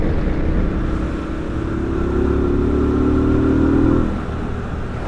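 A Honda Rebel 1100 DCT motorcycle accelerates on a highway in fifth gear, its engine droning steadily and rising in pitch under loud wind rush, then easing off.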